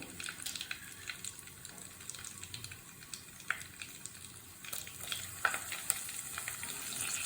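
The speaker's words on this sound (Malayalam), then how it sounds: "കടുക് പൊട്ടുന്നതിനോടൊപ്പം തന്നെ നമുക്ക് വറ്റൽമുളക് ഇട്ട് കൊടുക്കാം." Mustard seeds and dried red chillies frying in hot oil, a quiet crackling sizzle with scattered sharp pops as the seeds burst.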